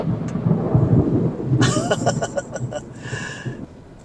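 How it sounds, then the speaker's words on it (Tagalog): Thunder rumbles during a storm, heard from inside a 2024 Kia Sonet EX on a test drive. A loud low roll is followed by a quieter, fading rumble, and a brief voice breaks in partway through. "Kanina pa yung kidlat niya mga padi"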